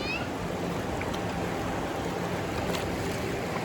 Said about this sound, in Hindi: और अब पानी का फ्लो देखो कितना है